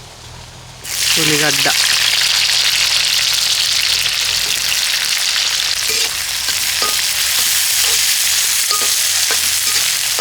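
Sliced onions hit hot oil for a chicken curry and burst into a loud, continuous sizzle that runs unbroken to the end, with brief stirring clinks and a faint voice under it.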